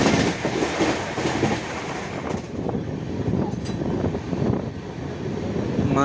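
The Visakha Express passenger train rolls along the rails at slowing speed, a loud steady rumble and rattle of carriages heard from on board, with no talking.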